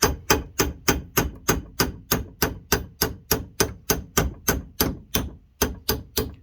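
Sharp metallic taps of a chisel struck against a part during camshaft installation on a 360 Mopar engine, about seventeen evenly spaced hits in a steady rhythm, close and clear with a brief gap near the end.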